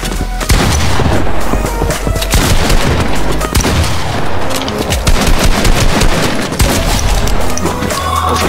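Heavy, nonstop gunfire in a video game, a dense barrage of loud booming shots and cracks fired in quick succession for the whole stretch, with no pause and no talk over it.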